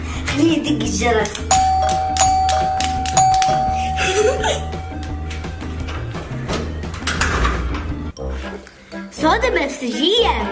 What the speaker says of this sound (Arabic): ها فعلا يدق الجرس